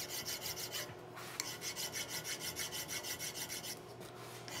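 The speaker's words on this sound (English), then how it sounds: "we're gonna just take this pillar file and focus right on the liner itself. I'm gonna cross file" A pillar file cross filing a gun barrel liner on a colonial kit, a close, rhythmic rasping of repeated strokes with a short pause partway through.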